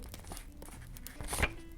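A paper surprise packet of cartoon characters is torn open close up, with a short crinkling rustle that builds into one louder rip near the end; no talking.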